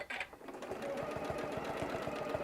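A sewing machine runs steadily, stitching back over loose threads while an airplane caddy is sewn. Its needle makes a fast, even mechanical patter, close and continuous, with no talking.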